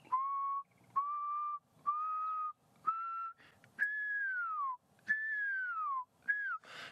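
A person whistles an imitation of a little owl's call, with eight clear sustained whistled notes in a steady rhythm, the later ones sliding downward, loud and alone with no talk.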